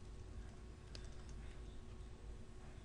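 Code being typed on a computer keyboard for a Visual Basic tutorial: soft, faint keystrokes scattered across a few seconds over a steady low hum, with no voices.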